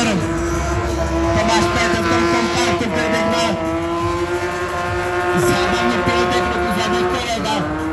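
Race cars roar through corners at a night show at the Nitra auto salon, engines loud and sustained with squealing tires and skids, close and continuous over a crowd and an excited commentator's voice.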